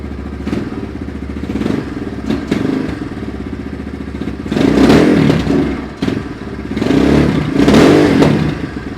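Throttle blips on a 2025 Apollo RFZ 250 Thunder dirt bike with a carburetor needing work: the engine revs loudly in several bursts, sagging and nearly dying between them, with clattering and a few thumps close by.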